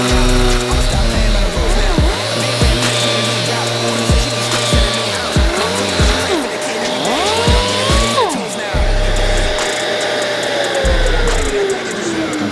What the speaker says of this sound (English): this piece is pretty much done with the dual action sander